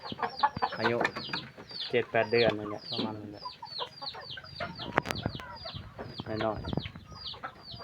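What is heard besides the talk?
chickens clucking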